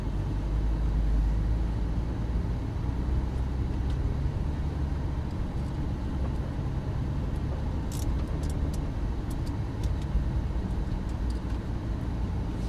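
Porsche Turbo S on a racetrack in Las Vegas, heard from inside the car as a loud, steady, deep engine and road rumble that holds throughout without a break.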